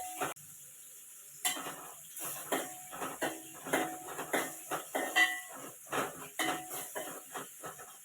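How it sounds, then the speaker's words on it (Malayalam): Chicken pieces frying in hot oil in a pan for curry, a steady sizzle broken by repeated stirring and scraping clatters of a utensil against the pot, fairly close, with no talking. "നമ്മൾ എണ്ണ ചൂടാകുമ്പം ഈ ചിക്കൻ അതിലോട്ട് ഇട്ടിട്ട് 2 മിനിറ്റ് പൊരിച്ചു കൊടുക്കാം"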